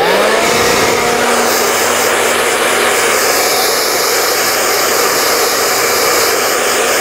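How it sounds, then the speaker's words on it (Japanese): A hair dryer blows on permed hair, producing a loud, constant, close-up whooshing roar that runs unbroken for the whole stretch with no voices. "ではちょっと乾かしていきます。"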